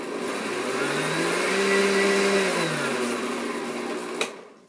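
A blender mixing berries into a morning smoothie, its motor whirring up to a steady loud drone that dips and rises, then cuts off with a sharp clunk near the end.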